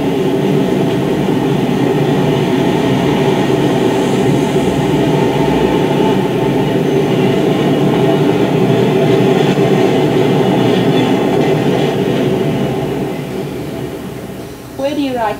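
A 1970s New York City subway train rumbles steadily with a dense, continuous roar and rattling wheels, loud and close throughout, easing slightly near the end.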